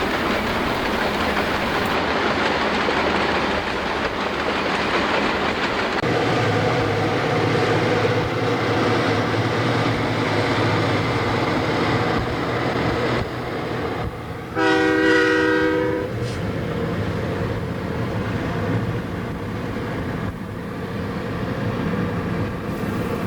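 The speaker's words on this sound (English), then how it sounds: "the locomotives are slowly starting to gather speed as they set out" A Canadian Pacific grain train's locomotives rumble steadily nearby, building power as they accelerate, with a loud multi-tone horn blast sounding briefly partway through.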